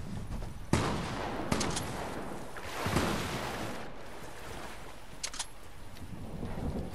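Gunfire in a video game comes as several sharp shots and short bursts spread across the moment, fairly faint against a washing, surf-like background.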